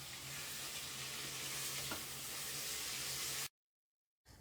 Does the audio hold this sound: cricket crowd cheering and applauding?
no